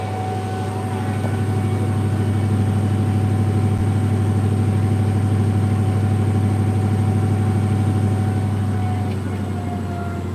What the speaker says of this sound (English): You can hear the engine rolling here.